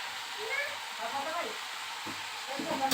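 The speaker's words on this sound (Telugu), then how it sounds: "ఇప్పుడైతే ఇవి ఉల్లిపాయలు అయితే కొంచెం రోస్ట్గా వేగాలన్నమాట" Onions and green chillies fry in a pan with a steady, close hiss and soft crackle that runs unbroken through the moment.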